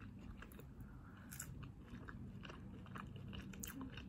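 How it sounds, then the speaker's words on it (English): Fries are eaten up close, with a run of soft, irregular crunches and chewing sounds, quiet and with no talking. "Crunchy, and they actually taste like they have potato in them."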